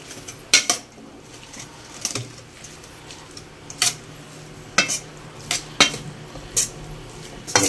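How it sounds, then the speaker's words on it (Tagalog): A utensil scrapes and clanks against a pan while sisig with onion is stirred, with irregular metallic knocks over a low background and no talking. "Haluin natin."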